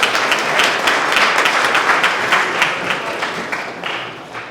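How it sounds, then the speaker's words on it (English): Steady applause from a crowd at a medical network launch event, many hands clapping in a dense, continuous patter that holds fairly loud throughout before easing slightly at the end. "So let's give a round of applause for Al Shal."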